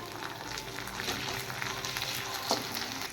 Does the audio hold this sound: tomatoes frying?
yes